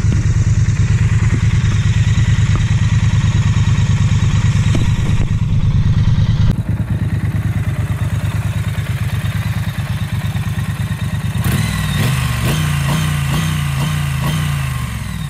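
A 2019 Triumph Street Twin motorcycle on stock exhaust pipes idles close by. It gives a steady, loud, throbbing rumble for the whole stretch, and its pulse shifts slightly near the end.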